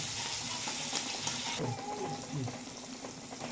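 Chopped tomatoes with coriander sautéing in a pan for a green peas and cauliflower bhaji, a soft continuous sizzle with spatula stirring and wet bubbling sounds partway through.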